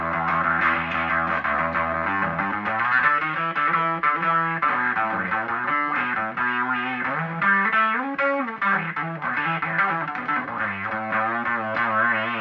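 Morley Power Wah Fuzz pedal from the late 1970s on bass guitar, a distorted, effected bass line that plays continuously and loud, with sweeping tonal shifts across the phrase.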